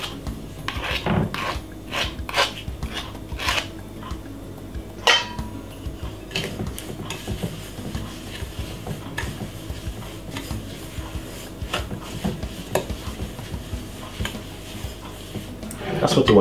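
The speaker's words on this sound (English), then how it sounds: "That's gonna be using a spoon. Just scrape off this" A spoon scraping sponge cake batter from the sides of a mixing bowl, giving a run of short rasping scrapes and light clinks at close range, with no talk.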